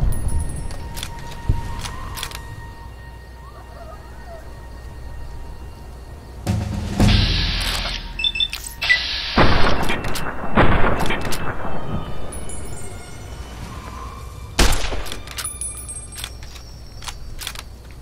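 Gunfire in the video game Fallout New Vegas: several loud, sharp shots and bursts scattered among quieter stretches, with someone talking faintly at times.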